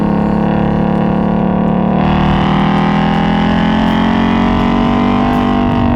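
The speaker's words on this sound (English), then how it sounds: "keep that off and just listen to the engine, because it sounds so good." A Ford Mustang Bullitt V8 with active exhaust holds a loud, steady drone that rises slightly in pitch midway, a continuous engine note heard close from inside without talk.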